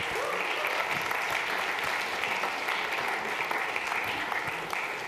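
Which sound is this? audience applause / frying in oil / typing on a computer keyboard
audience applause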